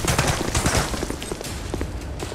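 Rapid bursts of gunfire ring out from a VR video game shooting match, a dense volley of shots that thins toward the end.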